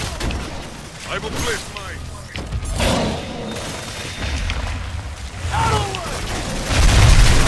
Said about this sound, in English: Throw another stasis grenade here.